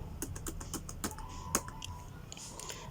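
Keystrokes on a computer keyboard as a new password is typed, a quick irregular run of close, crisp clicks with a few firmer taps and short pauses, no voices.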